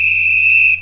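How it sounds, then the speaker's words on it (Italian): One sharp, steady whistle blast sounds loud and close, a pure high tone held for most of a second before cutting off, with no voices. "suoniamo il fischietto e vediamo dove si è nascosta"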